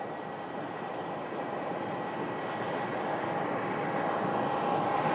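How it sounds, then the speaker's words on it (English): A United Boeing 737 MAX 9 departing for San Francisco from Phoenix Sky Harbor produces a steady, distant jet rumble that swells slightly louder as it goes, with no voices over it. "is actually a 737 MAX 9, and they are departing for San Francisco"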